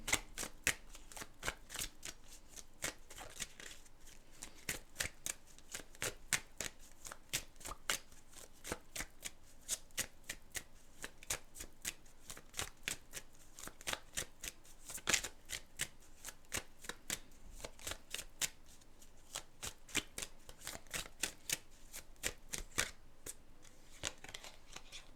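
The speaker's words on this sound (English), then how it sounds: "shuffle these cards and then find the meaning." Oracle cards are shuffled by hand, soft crisp riffles and taps repeating in an irregular patter for about twenty-five seconds, quiet and close, with no talking.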